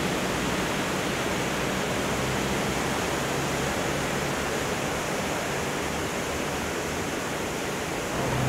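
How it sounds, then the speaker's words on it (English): A river in Kuldiga, Latvia flows with a continuous, loud, broadband rush of water that stays steady and unbroken from start to finish, with no talking. "now we are by the river"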